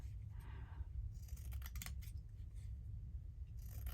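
Scissors snip through lace while trimming craft tags, several quiet crisp cuts close by against a soft room background.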